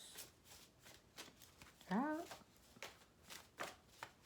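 Tarot cards shuffled by hand in a series of quick, soft riffling bursts close by, with a brief spoken word in the middle.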